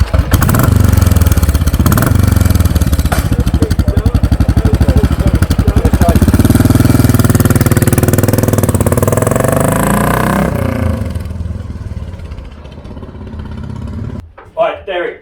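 A Harley-Davidson motorcycle engine runs loud and close, idling with a rapid pulsing beat and rising in pitch as it revs, then cuts off and settles into quieter clatter before brief talk.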